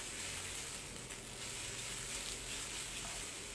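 Flat rice noodles sizzle and crackle steadily in a hot wok over a fierce high flame for wah tan hor, a continuous loud hiss with no talking.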